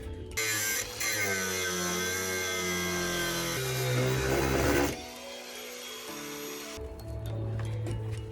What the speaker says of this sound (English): And now, try to angle grind these things out.